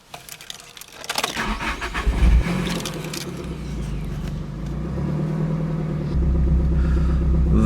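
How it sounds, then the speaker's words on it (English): Nissan S15 Silvia with an aftermarket muffler: keys jangle, the engine cranks and fires, then settles into a steady close idle with a deeper, louder surge near the end. "I think listening to the engine sound will do more than just words, so let's do this."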